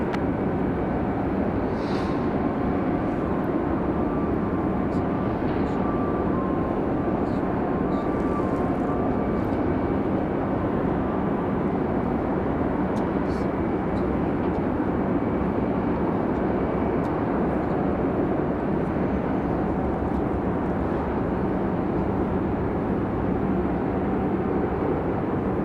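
A Lufthansa Boeing 787-9 jet at Raleigh-Durham International Airport sends out a loud, continuous engine roar that holds steady throughout without any pause.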